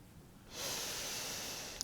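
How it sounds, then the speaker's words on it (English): Heavy breathing during a breathing exercise: one long, steady exhale with a hissy, airy character that fades in after a quiet start and holds close and soft. "It's like a breathing exercise almost, isn't it?"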